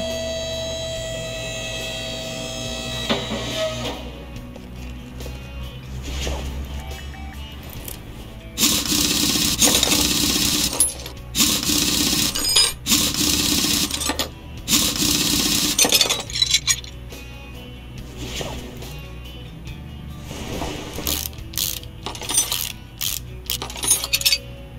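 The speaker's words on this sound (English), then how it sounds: "Alright, let's get it jacked up." Car being raised on a jack in the Car Mechanic Simulator 2018 video game, heard as a series of metallic clinks, ratcheting clicks and mechanical clunks in short bursts over a low steady background hum, with no voices.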